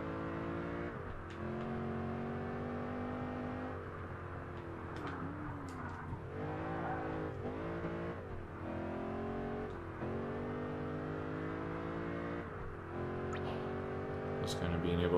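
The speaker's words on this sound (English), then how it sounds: "I really like listening to the cars from the cockpit" Race car engines drone and rev continuously from inside the cockpit in Project Gotham Racing 4 on Xbox 360, pitch rising and falling with gear changes, loud and close throughout.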